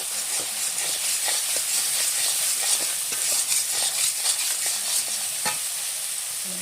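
Spices and salt sizzle steadily in hot oil in a pan while a utensil stirs, the continuous hiss broken by scattered scraping taps, all close and loud with no voices.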